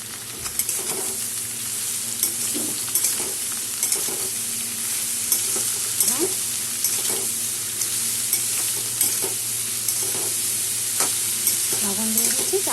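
Chopped ash gourd and green chillies fry in a pan while being stirred, a steady close sizzle broken by regular scraping strokes of the spoon across the metal.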